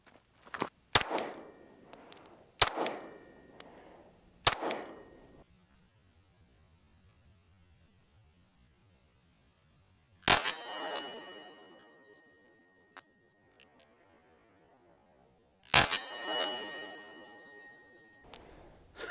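Glock pistol shots fired one-handed, loud sharp reports ringing out in separate bursts: three quick shots near the start, then single blasts around the middle and near the end, with quiet hum between.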